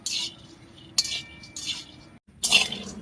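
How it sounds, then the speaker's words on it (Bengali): Peanuts dry-roasting and being stirred in a hot kadai over low heat, giving a few short rattling, crackling bursts spaced apart with quieter stretches between. "আপনারা শুনতে পাচ্ছেন বাদামটা ফাটছে তার মানে ভাববেন যে বাদামটা ভাজা হয়ে আসছে"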